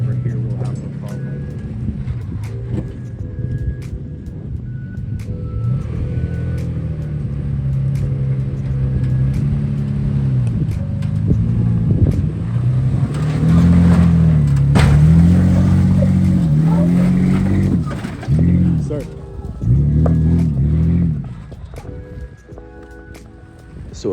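A four-wheel-drive truck with open front and rear differentials crawling up a rocky trail on Bald Mountain, engine rumbling low and surging in repeated revs as it climbs, close by with occasional clunks.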